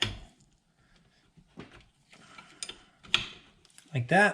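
A wrench clicks and scrapes against metal on the suspension of a 2020 Husqvarna TE150i dirt bike in short, sharp bursts separated by quiet gaps, with a brief spoken remark near the end.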